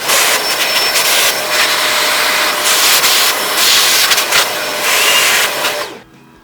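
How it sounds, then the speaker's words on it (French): A loud, steady roaring whoosh of a vacuum cleaner running continuously on a laptop's cooling fan, with slight surges, then cutting off abruptly near the end. "Alors là on va nettoyer tant qu'on y est le ventilateur. Donc vous prenez votre aspirateur."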